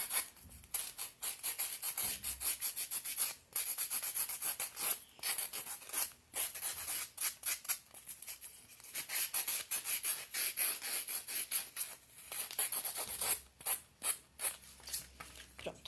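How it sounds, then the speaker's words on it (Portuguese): Someone sands the rough spots on a pink witch craft doll, making quick, repeated scratchy strokes close by. The rubbing comes in short bursts with brief pauses and no talk. "nós vamos lixar essas imperfeições"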